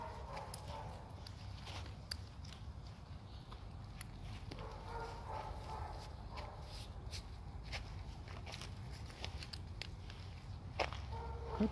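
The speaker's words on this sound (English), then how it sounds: "What a nice walking dog." A leashed dog is walked outdoors, with faint, irregular soft footsteps and small taps over a steady low background hiss throughout.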